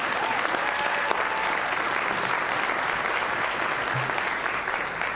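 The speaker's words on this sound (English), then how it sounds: "You can clap for that." Audience applause for a scholarship announcement at a Boys & Girls Clubs special presentation, dense, steady clapping from a large crowd with no break for its whole length.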